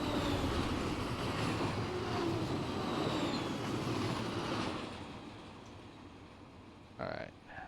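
An Amtrak train passes in the Run8 train simulator: a loud, steady rumble of rolling rail cars fades after about five seconds, then a short clunk follows.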